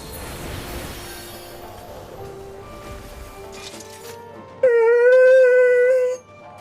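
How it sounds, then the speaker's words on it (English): A Doberman cries for attention after being fed, a loud, sustained whining howl rising near the end over quieter background sounds. "Doberman just got fed and now needs attention."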